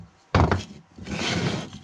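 Wooden blocks set down on a workbench while renovating a Suzuki RMX 50 water pump: a sharp, close hollow knock, then a longer scraping, shuffling sound as the blocks are shifted into place.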